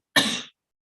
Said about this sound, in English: try and match my cough, everybody